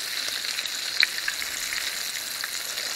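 Chicken fries skin side down in a cast iron pan, a steady close crackling sizzle with a few sharper pops and no talking.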